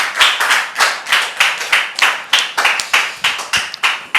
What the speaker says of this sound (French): On peut le recevoir avec des applaudissements bien nourris.